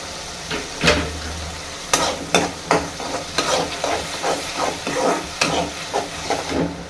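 Onion, tomato and ginger garlic paste sauté in a pan for Chettinad mutton, a steady sizzle broken by repeated sharp spatula scrapes and stirring clatter at an uneven rhythm, close and without voices.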